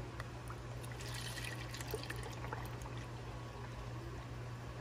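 A litre of milk pours steadily from a measuring cup into a container, a continuous close trickling stream running without speech against a low steady hum.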